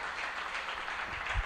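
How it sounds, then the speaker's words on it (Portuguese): A church congregation applauds in praise during a worship service, a steady wash of many hands clapping at moderate level throughout, with a low thump near the end. "Uma salva de palmas ao Senhor"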